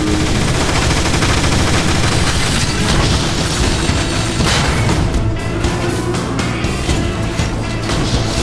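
Sustained, dense gunfire rattles nonstop in the Transformers: War for Cybertron video game as weapons fire at a Dark Energon dispenser, a Decepticon war machine. Rapid bursts and booms overlap in a loud, unbroken barrage.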